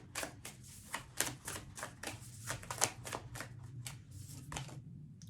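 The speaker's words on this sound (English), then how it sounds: "I'm gonna pull two cards" Tarot cards are shuffled and pulled from the deck, giving a quick run of crisp papery flicks and riffles, fairly close, with no talking.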